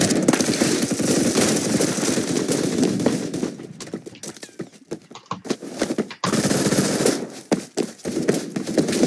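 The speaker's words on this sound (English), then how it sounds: "Someone's shooting off a lot of that." Rapid automatic gunfire from the Roblox first-person shooter Phantom Forces, dense bursts of shots crackling continuously at first, then thinning into scattered sharper shots after a short lull.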